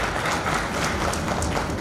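An audience at a grand astrology and vastu convocation and honours ceremony in Indore bursts into vigorous applause, many hands clapping in a dense, continuous patter close by.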